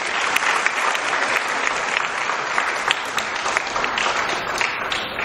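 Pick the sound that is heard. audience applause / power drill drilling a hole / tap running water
audience applause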